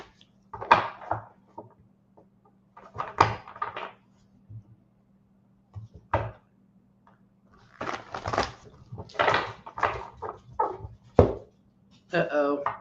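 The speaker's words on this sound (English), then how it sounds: "there might be some barking" A dog barks in scattered bursts at close range, the woofs and yips coming in uneven clusters between quieter stretches, with a steady low hum throughout.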